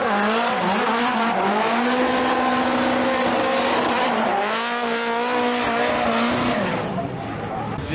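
Drift cars scream past at a drift event in Japan, engines revving high with rising and falling pitch and tires squealing, loud and close with crowd noise beneath.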